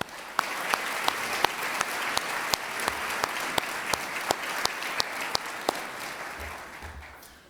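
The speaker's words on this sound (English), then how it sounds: "I want to give a huge round of applause coming from all of us." A round of applause from the audience at a city oath of office ceremony, with a steady wash of clapping marked by sharp, regularly spaced claps up front, fading gently at the end.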